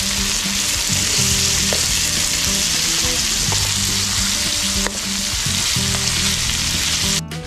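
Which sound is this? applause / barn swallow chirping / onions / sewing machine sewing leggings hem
onions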